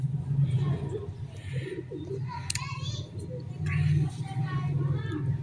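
Low, soft coos from a female pigeon repeat against a busy background of chirps and murmured noise, with brief higher calls in between.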